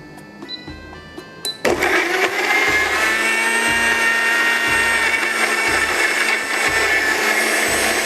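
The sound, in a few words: blender grinding ginger, galangal, shallots and garlic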